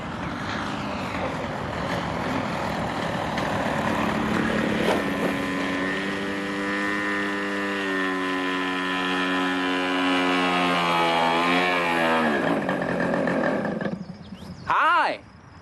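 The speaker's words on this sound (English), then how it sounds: "I was flying a quarter-scale, remote-controlled model airplane." A quarter-scale remote-controlled model airplane flies overhead, its small engine droning steadily and rising and falling in pitch as it passes, before fading away. A short burst of other noise follows at the end.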